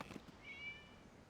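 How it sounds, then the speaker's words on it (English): A cat's single short meow in the Genshin Impact video game, faint and brief over quiet background ambience, with no one talking. "It was just a cat."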